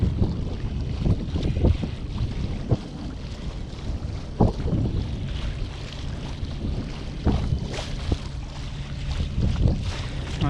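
A bass boat passes on open water during a windy fishing-tournament morning, its engine a steady, rushing drone blended with heavy wind buffeting the microphone and the wash of water, with no voices.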